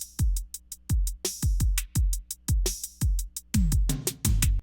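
Simple drum pattern programmed from a sampler in Logic Pro: punchy kicks and crisp hi-hat or snare hits in a steady, repeating groove, loud and close, with a few quicker fills near the end and no talking.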